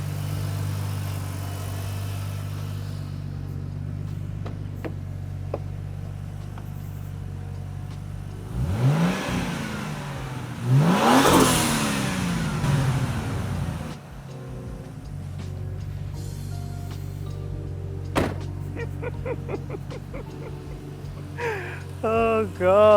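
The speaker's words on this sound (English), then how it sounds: "Give her a rev." A car engine under a coolant flush idles steadily, then revs up twice in rising and falling swells before settling back to idle, with people talking over it.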